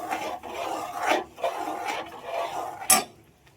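Mixed vegetable curry stirred in a pan: repeated rasping scrapes of a spoon across the pan bottom in uneven strokes, close and clear, ending with a sharp metallic knock.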